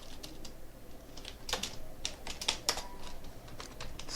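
Quiet clicking of a computer keyboard as code is typed, irregular clusters of keystrokes with a few louder taps, close and alone without speech.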